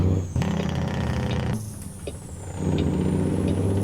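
A Kenworth NeedleNose truck with a Spicer 4-4 twin-stick transmission roars loudly as its engine is revved, dipping briefly in the middle before surging back up, with a hissing air sound riding on top.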